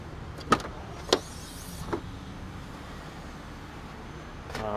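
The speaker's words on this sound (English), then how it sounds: "rear wiper" The rear wiper motor of a 2006 Honda Pilot EX-L gives a few brief whirring, thumping sweeps, close but fairly quiet against a steady low background hum.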